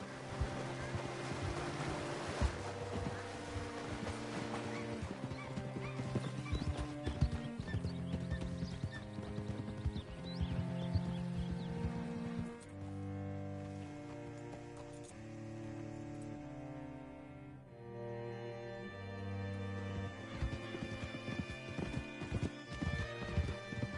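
Horse hooves clop at a gallop in the video game Red Dead Redemption 2, an even rhythmic beat running under a loud orchestral music score.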